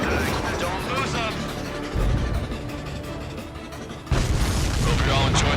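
Booming explosions in the combat flight game Ace Combat 7 during an assault on an enemy air defense network, a dense continuous roar with a sharp louder burst about four seconds in.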